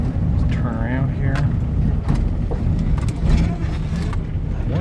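An old Honda Civic with a Hondamatic transmission drives in second gear, its engine droning steadily up close under almost continuous talking from people inside.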